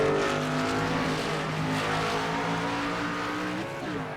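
A race car skids and slides on track during a race, its engine holding a loud, steady roaring whine with tire squeal, then dipping slightly near the end, heard close and alone.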